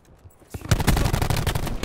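Video game gunfire in a league match, a loud rapid burst of shots that starts abruptly after a quiet moment and continues in a dense, close fusillade.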